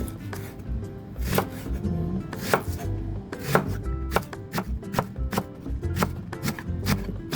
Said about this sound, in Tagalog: after mahugasan natin ang onion leek, hiwain na po natin ng pa-slanting